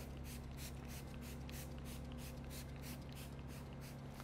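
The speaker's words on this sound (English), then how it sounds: "start spraying down the surface of your headlight" A spray bottle hisses clay lubricant onto a car headlight in a rapid series of short, even squirts close by, over a low steady hum.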